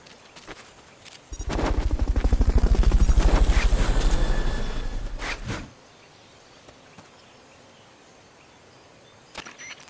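A helicopter's rotor chops loudly in the video game Metal Gear Solid: Peace Walker, a rapid, rhythmic beat that swells and fades over a few seconds, followed by quiet with a couple of sharp clicks.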